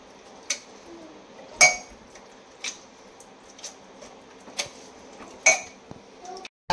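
Boiled vegetables for pav bhaji are mashed in a pressure cooker, giving sharp metallic clinks and thuds of the masher against the pot at irregular intervals, close and fairly loud over a quiet background.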